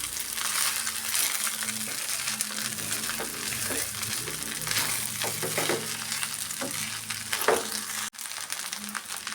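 Egg rice being stirred and fried in a pan, with a steady sizzle throughout and repeated scraping, clinking strokes of the spoon against the metal, close and fairly loud.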